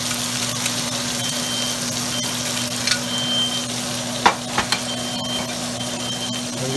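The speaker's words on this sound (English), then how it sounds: "I've got some chopped up garlic here. So I'll go ahead and add that into the butter." Chopped garlic sizzles in hot butter in a pan, a steady crackling fry with a constant hum in the background and a few small clinks.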